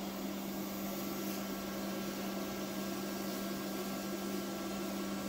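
Hot air rework station blowing steadily through a very narrow nozzle during micro soldering of a 48-pin QFN chip, a continuous faint hiss and whir with no variation.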